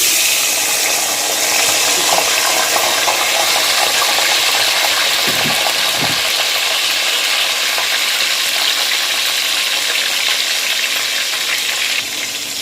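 Hot oil sizzling steadily in a pot while making Nigerian turkey stew, a loud continuous frying hiss with a few faint stirring knocks, no talking.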